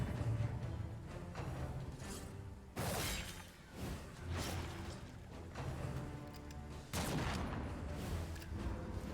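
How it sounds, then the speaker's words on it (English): Gunfire aimed at the party in Darkest Dungeon 2 arrives as a few sharp, crackling volleys several seconds apart. Each is a loud burst with a shattering edge, set against a dense, noisy combat backdrop. "Okay, so you're all shooting us."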